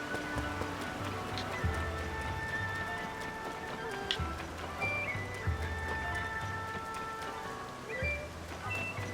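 Steady rain falls in Legend of Zelda: Tears of the Kingdom, a soft continuous patter with periodic clip-clop hoof sounds and occasional faint tones over the background, fairly quiet throughout.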